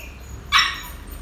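A Phu Quoc puppy gives a single short yelp or bark while being vaccinated, a brief sharp cry standing alone in an otherwise quiet setting.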